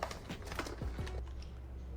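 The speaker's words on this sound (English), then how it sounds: "let's start adding our white keycaps onto the keyboard." Keycaps being pressed onto a keyboard, a quick run of small plastic clicks and taps close up, with no talking.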